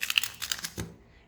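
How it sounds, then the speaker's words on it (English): A deck of tarot cards is shuffled, producing a brief flurry of crisp, close riffling snaps that ends in a soft thump, quiet and without talking. "as I shuffle the cards for you"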